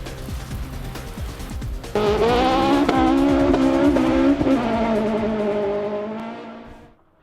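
A rally car at the Scottish Rally drives a forest stage, its engine roaring in close pass with tire noise, holding loud and then fading away.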